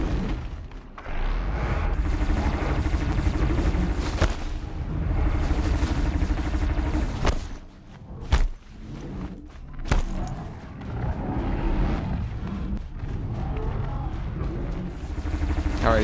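Thunderjaw cannon fire in the video game Horizon Zero Dawn, a dense roaring barrage of booms and blasts running for many seconds, loud and close, with sharp impacts cutting through the rumble.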